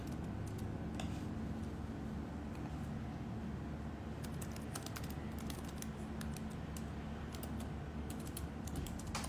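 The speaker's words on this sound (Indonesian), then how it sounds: "sambil ketik sesuatu" Keys clatter on a computer keyboard in quick, uneven bursts, with some sharper clicks mixed in. The typing runs steadily over a low background hum and sits fairly close, with no talk.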